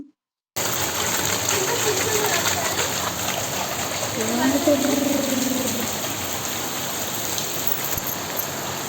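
Steady hiss of heavy rain falling nearby during Ganesh Chaturthi celebrations, with faint voices briefly audible underneath.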